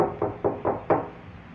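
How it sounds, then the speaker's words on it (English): Four muffled knocks on a door, evenly spaced and fairly close, followed by a brief quiet tail with no talking. "Like someone is just knocking on our..."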